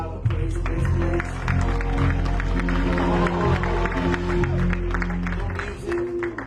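A church congregation claps and shouts praise together, a loud sustained wash of crowd noise and cheering with organ-like tones held underneath throughout.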